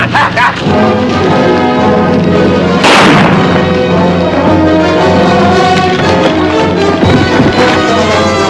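A single sharp pistol gunshot cracks out in a dramatic standoff scene, loud and close, set against a continuous music score.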